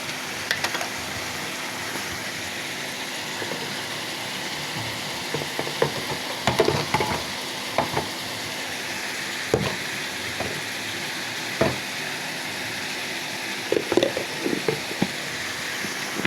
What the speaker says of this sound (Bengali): মাছগুলো কষিয়ে নিচ্ছি।